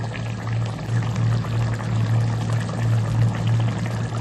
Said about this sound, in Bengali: দেখতেই পাচ্ছ ঝোলটা ফুটে উঠেছে